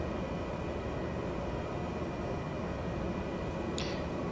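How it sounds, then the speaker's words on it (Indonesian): A simulated aircraft taxiing at low idle in Microsoft Flight Simulator 2020, a steady broadband engine drone and hiss with a constant faint whine, continuous and unchanging, with a brief tiny blip near the end. "Kita taxiing pakai low idle"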